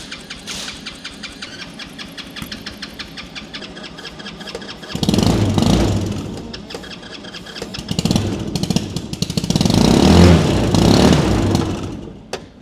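A twin-turbo Amazon mini Jeep engine with a newly fitted carburetor cranks, then fires into loud, rough running, surging twice in rising revs with raspy, ragged exhaust noise.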